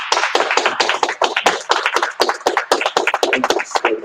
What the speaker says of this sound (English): would you help me and greet them by clapping our hands and just welcoming them to the International Christian Apostolic Fellowship